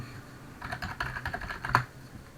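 Keys clack quietly on a computer keyboard while someone writes a function in Scilab. The keystrokes come in an uneven run of close clicks over a low background hum, with no voices.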